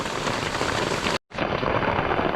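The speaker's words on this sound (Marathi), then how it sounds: "पाऊस तर खूप आहे" A dense, steady roar of heavy rainfall at Matheran hill station, broken by a sudden brief dropout of sound before the downpour resumes just as strong.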